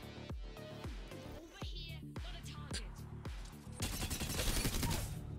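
The Havoc energy rifle fires in Apex Legends: several short bursts of sharp shots, then a sustained rapid stream of automatic fire that grows louder toward the end.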